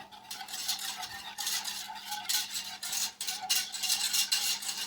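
A spoon scrapes and clinks around a metal pot, dissolving raspberry gelatin in boiling fruit juice, in steady, repeated strokes, close and fairly quiet, with no talking.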